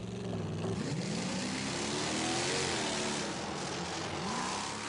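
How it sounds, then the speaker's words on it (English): A monster tank built from a Chevrolet truck mounted on a vintage military tank runs with a steady, loud engine roar that rises and falls slightly as it revs, with broadband mechanical rumble throughout. "It's a Chevrolet truck mounted on a vintage military tank."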